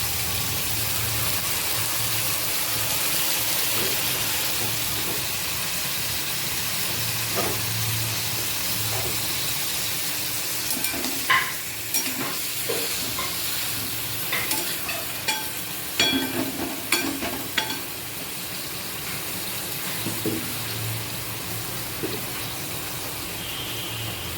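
Figs fry in a pan with garlic and chili paste, a steady soft hiss of sizzling oil with scattered scrapes and clicks of stirring, close and continuous, no voices.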